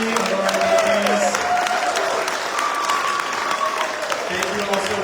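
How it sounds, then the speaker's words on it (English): An audience at an induction ceremony applauds in a dense, sustained round of clapping that stays loud and even for the full five seconds, with faint voices mixed in. "One last round of applause for all three of our ladies."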